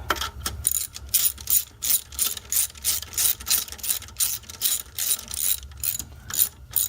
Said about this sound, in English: so you hold the bottom nut, tighten the two nuts together